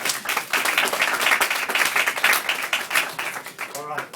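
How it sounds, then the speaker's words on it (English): Audience applause for a speaker at an Oakland Youth for Obama event, a lively burst of many hands clapping with a voice speaking over it near the end. "give him a round of applause"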